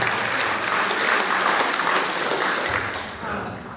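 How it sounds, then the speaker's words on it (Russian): Steady burst of applause from a studio audience at a televised prize draw, dense and sustained for several seconds before easing off slightly toward the end. "Аплодисменты"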